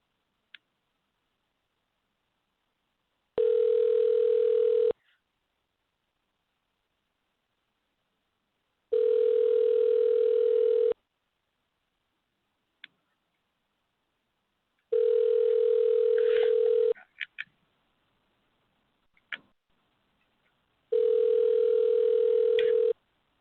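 An outgoing telephone call rings unanswered: four long, steady ringback tones, each about two seconds, separated by even silences, with a few faint clicks and taps between them.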